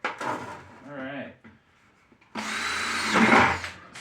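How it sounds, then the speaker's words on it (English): A power drill bores bigger holes into the top of a bucket on an off-grid homestead, a loud, steady whirring burst that lasts over a second near the end, after a brief stretch of talking. "let's get a drill in real quick. I'm going to put some bigger holes here on top."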